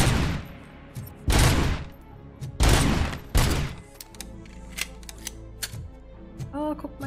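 Gunfire in the video game RoboCop: Rogue City, several loud bursts of rapid shots separated by short gaps, followed by lighter impacts and mechanical clatter, with a voice briefly heard.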